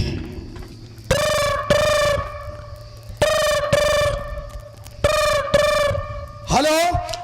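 Telephone ringing tone with repeated double rings, loud and close, sounding in a dramatic staged scene before a call is answered.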